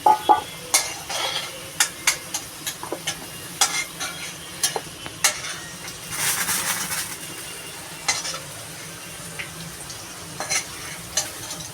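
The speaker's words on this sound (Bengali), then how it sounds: "গাজর আর পেঁপেটাও ভাজা হয়ে গেছে তুলে নিচ্ছি" Carrots and papaya fry in oil in a pan for a Bengali shukto, with a steady low sizzle broken by sharp clinks and scrapes of a spatula stirring against the pan, a brief louder hiss near the middle.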